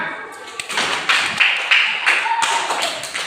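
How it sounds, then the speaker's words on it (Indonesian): Applause in an Indonesian classroom, with a few separate claps and hand taps building into scattered, fairly close clapping from a small group that keeps on for a few seconds. "Tepuk tangan."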